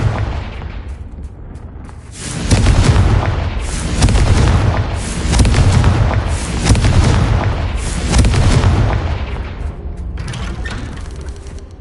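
Repeated Confringo fire spell blasts in Hogwarts Legacy, a string of loud booming explosions in close succession with rumbling tails, sustained and dense over the whole stretch.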